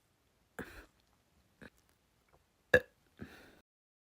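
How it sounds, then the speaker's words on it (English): Burping after drinking soda, four short, separate burps and throat sounds close to the microphone, with quiet pauses between them. "give me like 5 minutes so I can finish like burping"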